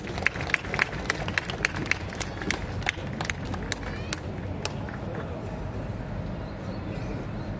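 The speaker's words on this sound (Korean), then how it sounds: "여러분 따뜻한 박수로 맞아주십시오." An audience claps in welcome at a formal event, a dense clatter of hand claps with sharp individual claps standing out at first, then settling into a steadier, softer patter.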